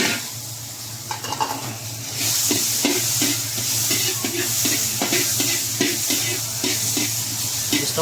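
Tomatoes and onion sautéing in a little oil as the base for milkfish sinigang, a steady close sizzle with repeated scraping stirs, the hiss jumping louder after about two seconds and holding there.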